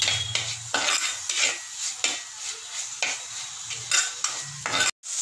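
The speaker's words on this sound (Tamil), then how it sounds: "உப்பு கொஞ்சமாக சேர்த்துட்டு நல்லா வதக்கிக்கங்க." Masala with a little salt sautéed in a pan for crab kulambu, a metal spoon scraping and stirring in repeated strokes over a soft sizzle, close and distinct, ending in a sudden cut.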